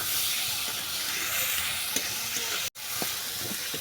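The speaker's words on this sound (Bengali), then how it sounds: "এরপর দিলাম কুচানো টমেটো এটাকে আমি ভালো করে কষিয়ে নেবো" Chopped tomatoes sauté in a pan for a moringa flower curry, giving a loud, continuous hissing sizzle with occasional stirring scrapes and one brief dropout near the end, no voice over it.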